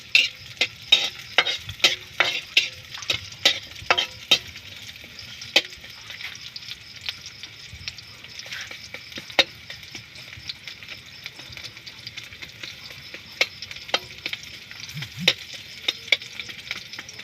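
Onions frying and being stirred for Filipino pork mask adobo, with a soft steady sizzle broken by frequent sharp scraping and clacking of a utensil against the pan at an irregular rhythm.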